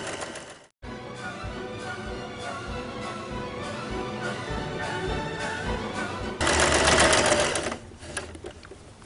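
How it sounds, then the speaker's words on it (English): Sewing machine stitching quilt fabric along a stitching line for half-square triangle piecing; a steady, close mechanical whirr with a regular needle rhythm, briefly stopping and then running faster and louder toward the end. "You're going to sew on the stitching line all the way down here."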